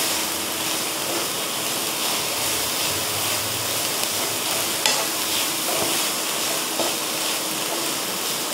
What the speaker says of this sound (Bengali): নারকেলটাকে একটু ভেজে নেবো।